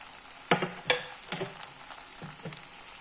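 Jackfruit taco filling with peri peri sauce stirred in a sizzling pan: a few sharp scraping strokes of a spoon against the pan over a faint, steady frying hiss, close and fairly quiet.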